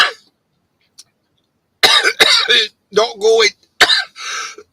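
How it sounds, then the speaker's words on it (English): Several harsh coughs burst out in a close, loud coughing fit, clustered in quick succession after a brief quiet stretch, with a short spoken remark mixed in. "I'm just going to keep coughing and coughing and coughing."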